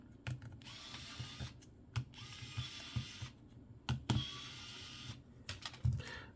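Small screws being driven out of a Nintendo 3DS handheld with a screwdriver, giving quiet, close ratcheting clicks in several short bursts with brief pauses between them.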